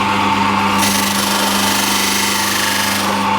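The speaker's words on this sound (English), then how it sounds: "I've been polishing it, it's getting there" A power tool polishes a custom Royal Enfield motorcycle part, a loud continuous high-pitched whine with a steady motor hum, close and unbroken.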